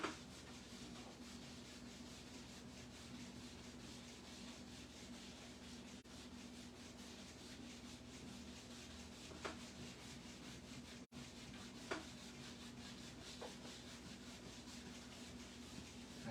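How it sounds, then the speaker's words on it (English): A paintbrush scrubbing paint mixed with liquid white into canvas, worked back and forth without lifting: faint, continuous soft rubbing strokes with a few brief louder scrapes, no talking. "Sometimes I don't even pick the brush up off the canvas. I just keep scrubbing and working it in."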